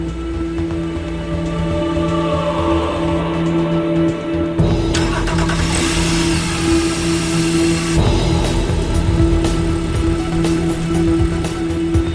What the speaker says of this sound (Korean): 이때는 실제로 연료를 넣고 엔진을 가동하죠.